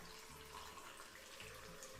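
Water pours steadily from a tap into a blender holding softened chiles for salsa, a soft continuous splashing hiss that stays fairly quiet and even throughout, with no talking.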